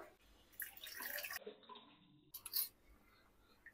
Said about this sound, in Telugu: ఇంకో కొంచెం వాటర్ వేస్తాను ఇందులో